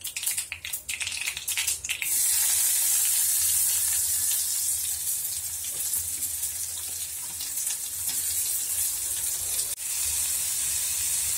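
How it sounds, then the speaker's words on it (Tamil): Onions hitting hot oil with popped mustard seeds give a steady, loud hiss of frying, dense and continuous after a brief rattling start, with no voices. "வெங்காயத்தை சேர்த்து நல்லா வதக்கிடுவோம்"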